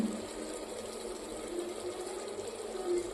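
Water is poured into a pot of half-cooked chicken biryani made with Siraga Samba rice, giving a steady, fairly faint hissing pour that runs continuously with no talk.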